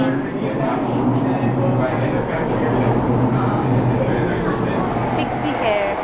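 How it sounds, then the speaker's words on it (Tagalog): Train pulling into a crowded station platform on a trip back to Macau, a steady loud low rumble and rolling rail noise throughout, with crowd murmur underneath. "Ayan na ang train."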